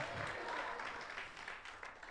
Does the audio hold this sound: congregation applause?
yes